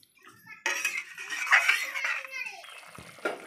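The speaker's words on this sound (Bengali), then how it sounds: "এই যে সবজিটা সিদ্ধ হওয়ার জন্য জল দিয়ে দিয়েছে, নাড়িয়ে নিচ্ছে।" Vegetables boil in water in a pot while a spoon stirs them, producing sloshing splashes and clattering metal knocks against the pot, close and uneven, with a voice briefly present.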